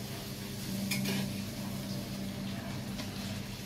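Luchi, rolled flatbread, frying in a pan, with a steady soft sizzle and a few light clinks of utensil against the pan, close and continuous without speech.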